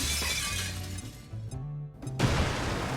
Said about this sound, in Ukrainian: Тоді лови гранату.